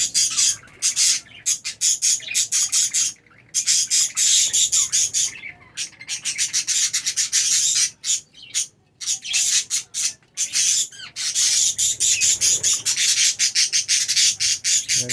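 Many budgerigars in a breeding colony chatter and squawk continuously nearby, a dense flock of shrill calls with brief pauses, no talking.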